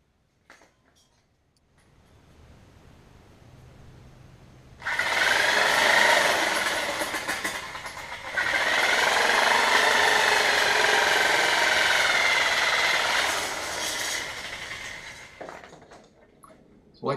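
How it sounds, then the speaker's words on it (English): Harbor Freight electric shears slicing through aluminum sheet, a loud, steady buzzing cut that starts abruptly, pauses briefly, then runs on for several seconds before stopping, with quiet shop ambience before it begins. "I'm also using my Harbor Freight shears, electric shears here."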